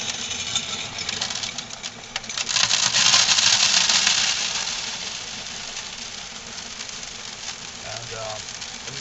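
Coal pours from a bin valve into an auger pipe as a steady, gritty rushing rattle that swells for a couple of seconds, then settles into a lighter continuous flow.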